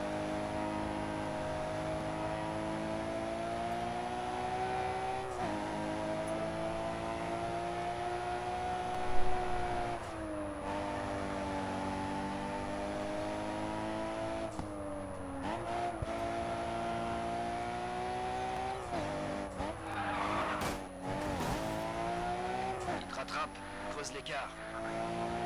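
Engine of a Japanese race car in the Grid 2 video game, a steady loud drone rising and falling with revs and gear shifts, with brief skid-like bursts near the end, under continuous talk.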